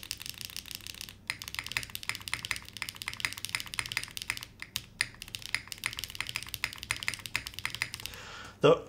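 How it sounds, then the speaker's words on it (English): A T9 keyboard by Deadline Studio with HMX Sunset Gleams switches, CRP keycaps and bottom foam being typed on: rapid close clacky keystrokes in fast bursts with brief pauses, ending in a louder knock. "This is the T9 by Deadline Studio with HMX Sunset Gleams and CRP keycaps"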